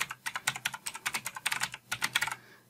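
Fast bursts of computer keyboard typing, a quick run of crisp key clicks with brief pauses, close and clear with no voices, while entering an address into a safe or blocked senders list in Outlook Web App 2019.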